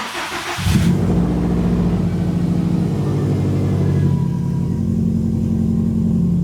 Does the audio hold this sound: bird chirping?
no